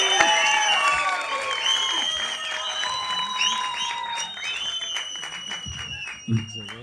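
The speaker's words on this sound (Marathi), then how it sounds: "एकदा जोरदार टाळ्या" At a film trailer launch event, a crowd breaks into sustained applause with whistles and cheering. Scattered whoops and voices rise over the clapping, which gradually thins toward the end.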